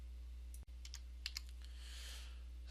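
Someone types on a computer keyboard: a handful of quiet, separate key clicks in an irregular rhythm over a steady low hum, with no voices.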